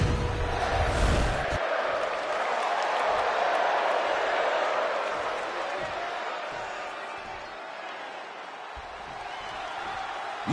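A crowd in the WWE 2K25 video game roars with a steady, broad wash of cheering and noise throughout, while dull thumps sound underneath.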